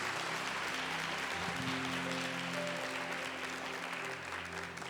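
A church congregation applauds continuously, a full, dense roar of clapping that holds steady throughout, with a low sustained organ or keyboard tone underneath.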